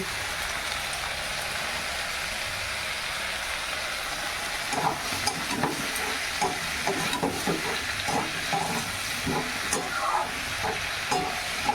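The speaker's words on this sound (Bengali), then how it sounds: "দিয়ে দিচ্ছি সবজিগুলো লবণ হলুদ আর অল্প করে একটু লঙ্কা গুঁড়ো" Vegetables with salt, turmeric and chili powder sizzle in a pan, a soft continuous hiss with scattered crackles and stirring scrapes growing busier in the second half, close and fairly quiet.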